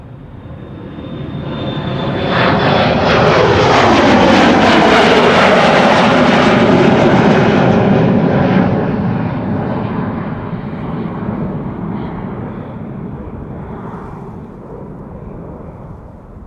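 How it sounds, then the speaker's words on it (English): A KLM Embraer 175 jet airliner passes by at Schiphol Airport, its engine roar swelling from a distance to a loud, broad rush overhead, then slowly fading away over several seconds. "Our next airplane to arrive, or to pass us by I should say, going to Kristiansand, KLM flight 1185, Embraer 175"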